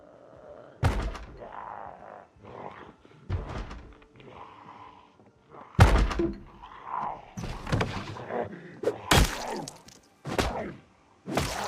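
Window glass breaking in the zombie survival game Project Zomboid, heard as a series of sharp knocks and crashing impacts spread across several seconds, with a faint voice murmuring in the background.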